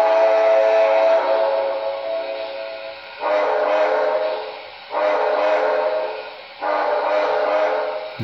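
Original whistle of an early PS3 model train engine, played as four sustained electronic steam-whistle blasts, the first long and the next three shorter, each a clear multi-tone chord with abrupt starts, alone.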